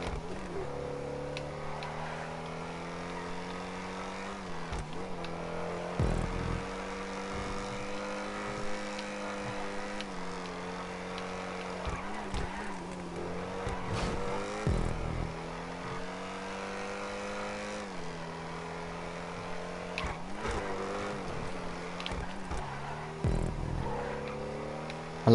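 Overflod Tyrant supercar in GTA 5 burbling at low revs, a steady rumbling drone that rises and falls through gear changes, with occasional bumps and thuds over about twenty-five seconds.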